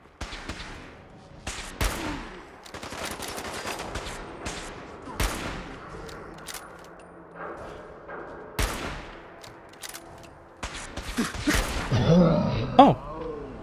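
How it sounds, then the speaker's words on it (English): Legendary energy weapon firing in modded Fallout 4 survival mode, sharp cracking shots in scattered bursts, some rapid and some single, ending in a denser flurry of impacts and a grunting voice. "But he's got some kind of legendary energy weapon"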